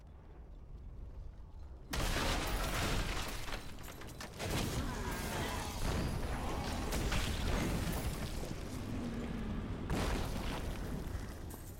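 Cluster arrow blasts from a Demon Hunter in Diablo 3: a sudden loud boom followed by a dense, sustained rumble of overlapping smaller explosions and crackling bursts, continuing for several seconds at high level.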